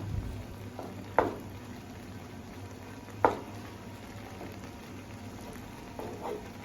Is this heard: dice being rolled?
no